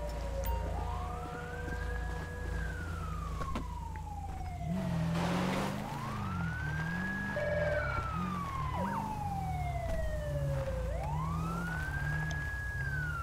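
Emergency vehicle siren wailing in the Grand Theft Auto V police mod, set in the Grande Sonora Desert, rising and falling in slow repeated sweeps over a steady engine rumble, fairly close and loud throughout.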